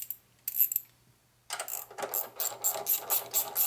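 A wrench ratchets on a Harley Sportster engine being rebuilt for land speed racing, with a short burst of clicks, a pause, then a run of rapid, evenly spaced metallic clicks up close.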